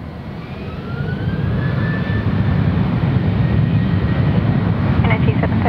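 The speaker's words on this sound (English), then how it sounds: "Qantas 8, clear for takeoff." A Qantas jet airliner takes off from runway 03 at Perth Airport, its engines giving a loud, steady, close broadband roar with a faint rising whine that holds for the whole stretch.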